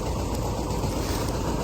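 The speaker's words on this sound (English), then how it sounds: "So the John Deere's chugging a little bit to get through it." A John Deere 730 tractor engine chugs steadily while working a New Idea corn picker-sheller through a field of corn, a continuous low rumble with broad mechanical noise and no pauses.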